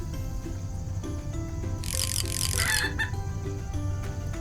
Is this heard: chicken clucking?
yes